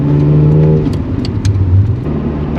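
A Ferrari 355, a car over thirty years old, idles on tick over with a steady, deep engine note that shifts and swells briefly midway. The engine is loud and close, with no talking.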